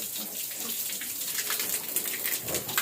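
A sow plays at a farm watering system, and a steady hissing, splashing stream of water runs without pause for a few seconds, close by and with no talk.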